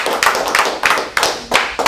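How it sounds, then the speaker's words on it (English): A few people clap at a confidence seminar, with sharp hand claps landing in loose bursts about every third of a second, close and fairly loud, over a short stretch. "Give yourself a big round of applause."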